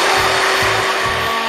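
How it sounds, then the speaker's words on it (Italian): A handheld immersion blender mixing homemade soap, a loud, steady close-up motor whir with a faint rhythmic pulsing underneath as it churns. "A questo punto azioniamo il mini pimer e mescoliamo."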